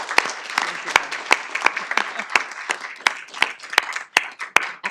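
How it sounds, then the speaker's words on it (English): Applause from a small audience at a council meeting, with scattered sharp individual claps standing out over a steady patter of clapping. "Let's give him a round of applause."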